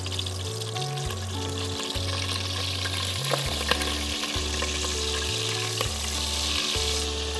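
Butter sizzling in a hot pan for a creamy malai beef dish, a steady broadband crackle running the whole time with a low, stepped hum beneath it and occasional stirring scrapes, no voices.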